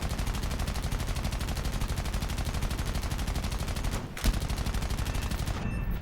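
The guns of an XA-38 Grizzly attack aircraft fire in War Thunder, a loud, continuous rapid rattle of heavy gunfire that runs almost unbroken, with one brief gap and a sharp burst near the end.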